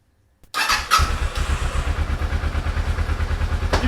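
Kawasaki Ninja 650 motorcycle engine cranking and catching after a brief silence, then settling into a loud, close, steady idle with a fast rhythmic thump.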